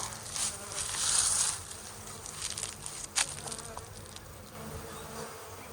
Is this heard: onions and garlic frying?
no